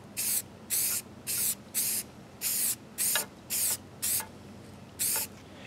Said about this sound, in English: And we're going to spray all the way around the model.